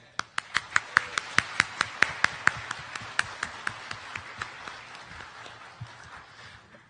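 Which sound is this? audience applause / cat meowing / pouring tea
audience applause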